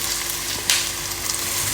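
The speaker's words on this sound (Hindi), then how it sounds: "आलू शामिल करेंगे और इन दोनों चीज़ों को हम हल्का सा फ्राई कर लेंगे।" Potatoes and onions frying in a pan for a fish and potato dish, a steady dense sizzle with a brief louder crackle from stirring partway through.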